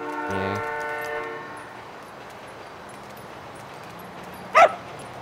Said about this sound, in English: I'm gonna get run over by a train!